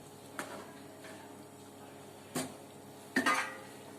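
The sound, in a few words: lid being placed on a cooking pot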